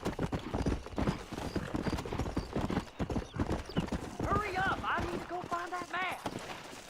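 Horse hooves clip-clopping at a gallop with repeated whinnies and neighs in the open-world western game Red Dead Redemption on Xbox Series S, loud and steady, mixed under someone talking throughout.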